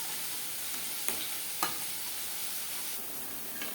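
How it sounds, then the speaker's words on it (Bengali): Marinated chicken with onion and tomato sizzles in a pan while being stirred, a constant frying hiss broken by a couple of brief scraping clanks, close up with no voices. "পেঁয়াজ টমেটোর সাথে ম্যারিনেট করা চিকেন বেশ ভালো করে মিক্সড করে দেবেন"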